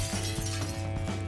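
Glass panels shatter in Teardown, a voxel destruction game, as a rapid series of sharp breaking crashes over a steady low hum.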